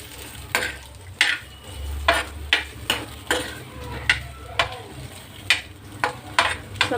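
Onions fry in hot oil for a spicy egg gravy, a soft continuous sizzle broken by regular scraping stirs roughly twice a second, close and fairly quiet, with no talking.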